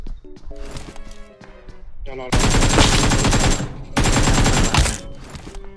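Gunfire in the video game PUBG Mobile, ranked Ultimate Royale mode, with loud sustained automatic bursts after scattered shots and footsteps, as players talk over it.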